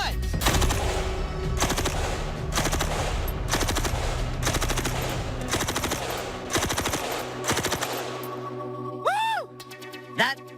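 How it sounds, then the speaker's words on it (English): An M60 machine gun firing 45 rounds in repeated rapid bursts, loud and close, with short gaps between bursts and a ringing metallic clink after the last shots. "I just fired 45 rounds from the M60."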